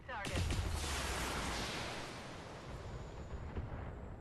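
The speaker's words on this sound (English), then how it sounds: "We might ease off with the medium laser and we'll fire" A medium laser firing in the BattleTech game, a sudden booming blast that swells and decays into a long rumbling roar, with a faint second pop near the end.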